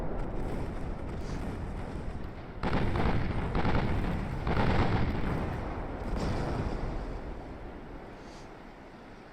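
Rumbling naval gunfire from warships in the Sink the Bismarck game, a dense continuous barrage of booms that swells and fades over several seconds, with no talk.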